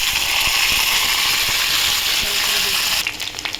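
Okra sizzles and fries steadily in hot mustard oil with black cumin, a loud continuous crackle that thins and softens near the end.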